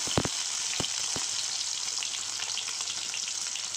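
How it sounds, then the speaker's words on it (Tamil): Ground medium-sized onion fries in hot oil with mustard seeds in a pan, a steady close sizzle with a few sharp pops at the start and no voices. "இப்போ வெங்காயம் வதங்கி வரட்டும்"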